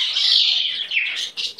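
A pet bird in its cage chirps loudly and close, a continuous high twittering stream broken into a few quick bursts near the end, with no voices.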